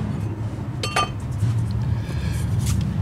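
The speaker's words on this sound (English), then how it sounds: "Pop the old rotor off." An old front brake rotor is worked off a 2006 Toyota Corolla, giving a few sharp metallic clinks and a ringing clank near the start, followed by lighter scraping and tapping of metal parts.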